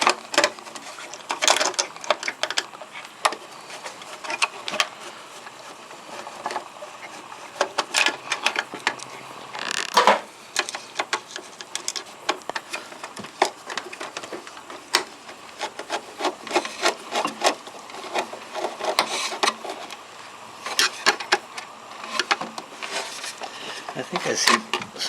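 Small screws being worked out of a Telex cassette tape copier while it is stripped for scrap: a steady, busy stream of close scraping, rattling and metallic clicking, going on without a break.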